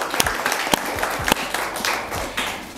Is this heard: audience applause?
yes